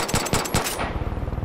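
Fast machine-gun fire in Far Cry 5 rattles out in close, loud bursts for under a second, then tails off into quieter rhythmic clatter.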